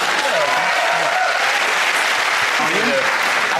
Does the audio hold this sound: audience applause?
yes